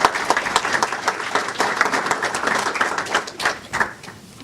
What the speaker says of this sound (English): So please start off by giving yourselves a round of applause,